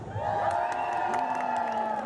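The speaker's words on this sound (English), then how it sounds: "you guys are cheering for logging camp number 13" A crowd at a lumberjack show at the Puyallup Spring Fair cheers and whoops loudly for logging camp number 13, a dense sustained roar of many voices close by.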